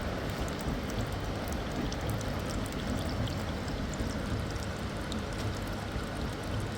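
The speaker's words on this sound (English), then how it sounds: "Now you can see pump is working, water coming down." A pump runs in a general dryer unit under repair as water pours down steadily, a constant dense rushing wash with no pauses, close and even throughout.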